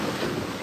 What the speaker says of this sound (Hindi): समंदर कभी खत्म होता है?